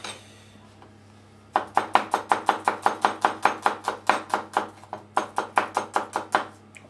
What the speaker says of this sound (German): Zwiebeln schneiden wir auch schon mal.